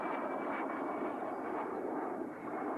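A de Havilland Vampire twin-boom jet flies at the 1992 Avalon air show in Australia, its engine giving a steady, distant, fairly faint roar that holds without break.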